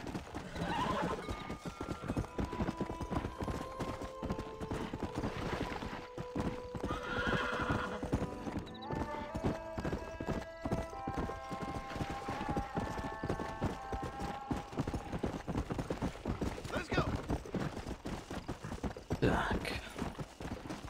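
Horse hooves clip-clop at speed with repeated whinnying neighs in the Red Dead Redemption video game, set under a steady musical score and continuing without pause.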